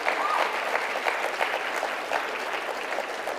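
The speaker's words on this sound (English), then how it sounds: "I would like for the audience to give her a big round of applause just for her participation." Steady applause from an audience at a youth citizenship awards ceremony, even and sustained for several seconds in a large room.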